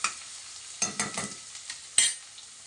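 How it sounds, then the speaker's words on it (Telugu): Onions sizzle in a hot pan as they soften, with a few short scraping stirs and bursts of frying crackle over a quiet steady hiss, close by and without talk. "ఉల్లిపాయలని కొంచెం మగ్గనివ్వాలి"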